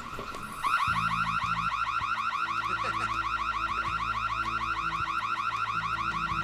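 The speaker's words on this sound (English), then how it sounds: "I think that's possibly Sykes and his brand new domestic alarm system." A brand new domestic home alarm system blares a steady, repeating warbling electronic siren, loud and close, after a brief quiet start, with no talking over it.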